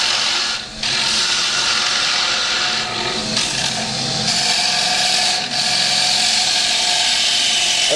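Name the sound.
wood lathe gouge cutting a bowl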